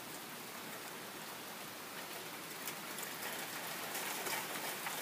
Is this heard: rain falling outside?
yes